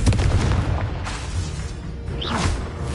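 A Confringo spell explosion in Hogwarts Legacy: a loud, heavy booming blast with deep rumble, a whooshing magical projectile sweep near the end, and sustained impact noise throughout, no voices.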